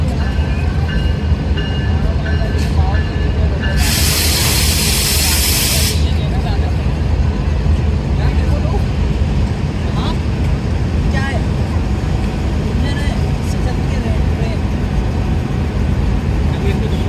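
Green Line train locomotive rolling into Lahore Junction, a steady loud rumble of rail wheels and engine throughout, with a brief hiss burst early on and a voice talking over the noise.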